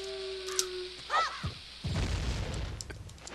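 Bomb blowing up a rock in Zelda: Ocarina of Time, a short fizz and chirpy game effects leading into a single muffled boom with a rumbling crumble, faint overall.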